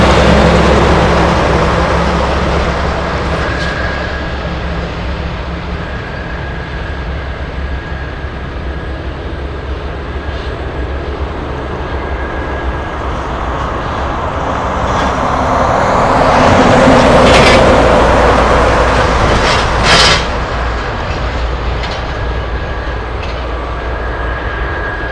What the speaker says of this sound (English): Engines are starting up on the DC-3.